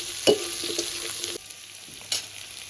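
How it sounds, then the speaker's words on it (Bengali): Chopped ridge gourd is being stirred into potatoes and onions frying in a pan, giving a close, steady sizzle with a few quick scraping strokes of the spatula in a short stretch, and no talking. "ঝিঙাটা দিয়ে একটু হালকা নাড়িয়ে চাড়িয়ে দেবো।"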